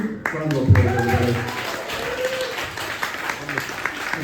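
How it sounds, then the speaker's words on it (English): An audience claps and cheers after singing happy birthday at a live event, a short burst of applause that starts over a held sung note and fades under talk. "Round of applause, everybody."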